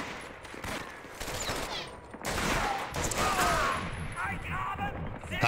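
Gunfire from the World War II shooter Medal of Honor: Vanguard: dense, rapid rifle and machine-gun volleys crackle continuously through a battle, with game voices shouting under the shots.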